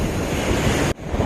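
Ocean surf washing ashore at Waveland Beach in Jensen Beach, Florida, a steady close roar of breaking waves with wind buffeting the microphone, cutting off abruptly near the end before the wash resumes more softly.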